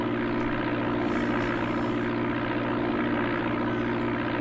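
A propeller airplane engine drones steadily in Amiga Flight Simulator II, a constant buzzing hum that stays even and unbroken throughout with no talk over it.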